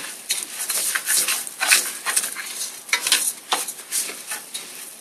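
Rice frying in a pan for Mexican rice, with a soft continuous sizzle under repeated scraping and stirring clatter of a utensil against the pan, close and steady.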